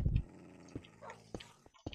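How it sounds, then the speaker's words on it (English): Tamed dog in a Minecraft FTB modpack giving a short low growl followed by brief whimpering sounds, close and fairly quiet. "I can hear Bertie growling"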